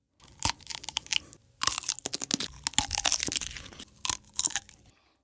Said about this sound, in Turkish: Ben şimdi bir salatalık yiyeceğim.